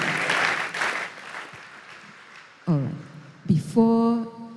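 A school event audience in Tamale, Ghana gives brief applause that fades down over the first seconds, followed by separate voiced, tonal sounds toward the end.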